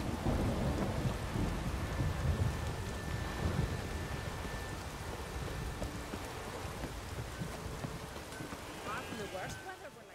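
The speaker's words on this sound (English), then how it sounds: "There's no point standing here in the rain." Rain and thunder in The Witcher 3 video game, a steady heavy downpour with rolling low thunder rumbling beneath, continuous throughout and gently fading toward the end.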